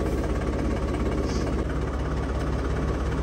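A tractor engine idles close by, a steady low rumbling throb with a loose vibrating knock that runs unbroken and fairly quiet through the whole stretch, with no voices.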